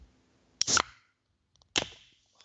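Two sharp, close splashes about a second apart as a fishing lure smacks the water on San Diego Bay, each a bright burst trailing off quickly into quiet.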